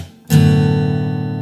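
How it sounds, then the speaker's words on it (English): A single strum on an acoustic guitar rings out after a short silence, the chord sustaining and slowly fading, close and clear. "It could be a down strum as well, as long as it sounds like this."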